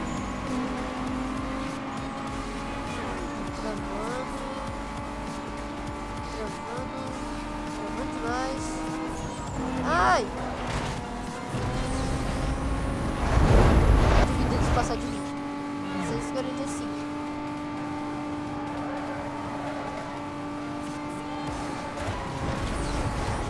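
A racing car in the Need for Speed video game gives a steady, droning engine note with shifting revs, and tires squeal and skid briefly partway through.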